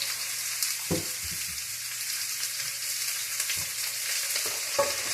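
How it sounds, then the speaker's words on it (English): Chopped squash frying in olive oil in a pan for ratatouille, a steady close sizzle with occasional stirring clatters and light scraping over a low background hum; no talking. "A couple of tablespoons of olive oil, and I'm going to add my largely chopped squash."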